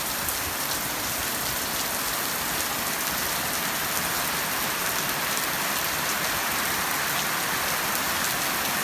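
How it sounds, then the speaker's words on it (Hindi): Heavy rain pours down steadily in a village during breakfast, a dense, constant hiss of drops on surfaces with no pauses and no voices. "तेज बारिश शुरू हो गई।"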